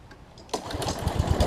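Husqvarna push mower engine, suffering a no-spark starting fault, turns over and catches after a quiet start, building into a loud, continuous chugging run with rapid low pulses.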